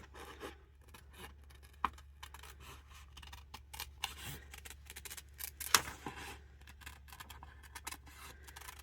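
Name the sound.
scissors cutting paper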